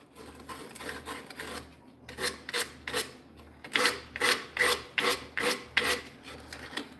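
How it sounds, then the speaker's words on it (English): Rough sandpaper rubbed by hand over the edges of a turned wooden piece, first faint and uneven, then a run of loud, regular rasping strokes, about one each half second. "Have any rough sandpaper? Try to smooth out some of the edges."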